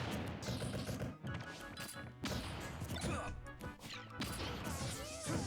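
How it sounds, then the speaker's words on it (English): C4 and a grenade go off in a competitive first-person shooter match, sharp crashing blasts and cracks mixed with gunfire and busy game noise, loud and close. "Trying to set off the C4, which also includes setting off a nade as well."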